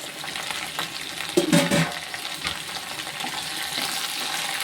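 Onion, green chili and tomato sautéing in a pan for a ladies finger tamarind curry, a soft continuous sizzle with a brief stirring clatter partway through, no voices.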